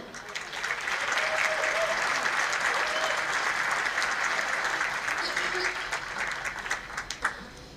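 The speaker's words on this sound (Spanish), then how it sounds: "El aplauso a ustedes" A concert audience applauds steadily throughout, a dense sustained clapping that holds level and tapers with a few louder claps near the end, at a rock performance with a chamber orchestra.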